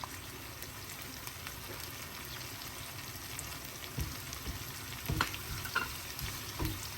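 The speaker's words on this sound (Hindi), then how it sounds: "सबसे पहले हम इसके अंदर डालेंगे थोड़ी सी प्याज तड़के के लिए, और इस प्याज के साथ ही हम ये साबुत मिर्ची और ये मिर्ची भी डाल देंगे।" Onion and whole chilies sizzle in hot oil for a tempering, a steady low frying hiss with a few louder stirring bumps toward the end and no voices.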